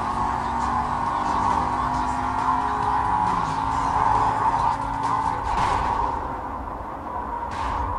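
A fast car racing in Need for Speed Most Wanted 2005 during a drag race, a steady high engine whine held throughout with tire noise and occasional swishes, loud and continuous.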